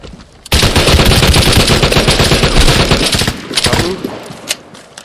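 Sustained automatic gunfire in the online shooter Vigor, dense rapid bursts loud and close for several seconds, then tapering into a few scattered shots.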